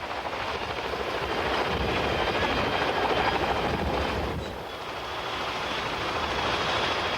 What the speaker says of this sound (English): The Agusta is a rather impressive helicopter, performing equally well in either a civil or military role.